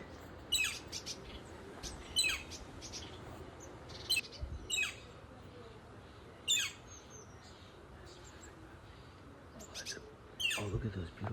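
A female northern flicker woodpecker calls outdoors, giving a series of sharp, high squeaky chirps in short bursts spaced a second or two apart over a faint background hum, with one last cluster of louder notes.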